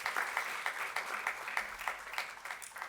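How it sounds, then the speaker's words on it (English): An event audience claps together in a sustained round of applause with a loose rhythmic pulse, heard alone at moderate distance. "Let's give another huge round of applause to Mr. Sean Sebastian"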